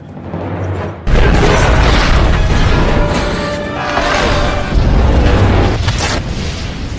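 Alien fighting machine exploding in the film War of the Worlds, a sudden loud boom after a quieter opening, followed by a sustained roaring, crackling rumble that stays dense and powerful.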